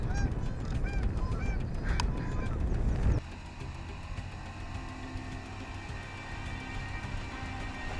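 Canada geese honk loudly and repeatedly in a noisy flock beside the Mississippi River, the calls breaking off abruptly partway through and leaving a lower outdoor hum with faint distant honks.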